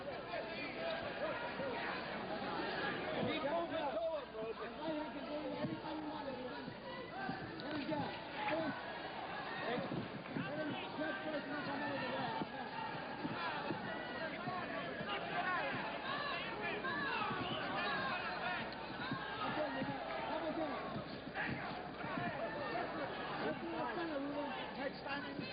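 A boxing arena crowd keeps up a steady, dense roar of cheering and chatter, loud and continuous throughout with no breaks.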